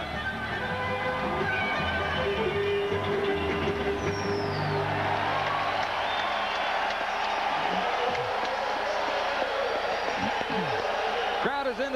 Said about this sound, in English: Crowd's having a good time, aren't they?